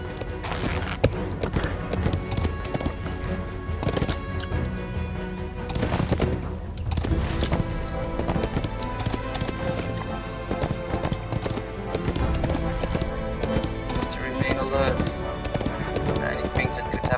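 Horse hooves clip-clop steadily while riding along the road to Isengard in the online game LotRO, mixed with birdsong and background music throughout.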